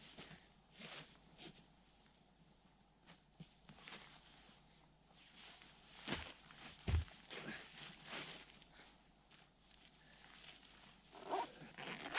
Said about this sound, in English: I just zip the tent closed.